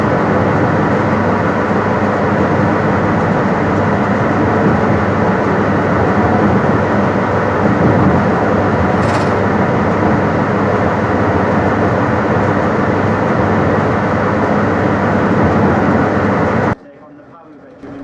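Rumble of a train running along the Midland Main Line near Syston, heard from the cab as a loud continuous drone with rail noise that holds steady, then drops away abruptly near the end.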